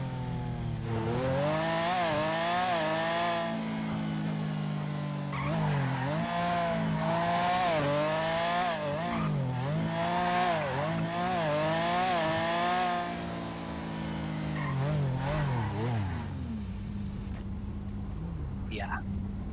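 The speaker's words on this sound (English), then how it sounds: "This car is so fucking loud." A loud car engine in the GTA video game roars and revs, rising and falling in repeated surges for about twenty seconds, with the pitch climbing through gear changes and steady and prominent throughout.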